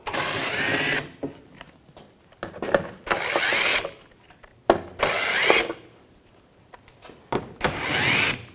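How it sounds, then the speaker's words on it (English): A tool turns an 8mm socket to remove shield bolts under a 2007-2013 BMW X5 3.0L, giving four loud, whirring bursts of about a second each, close up, with quiet handling clicks between them. "We're going to remove this shield using an 8mm socket."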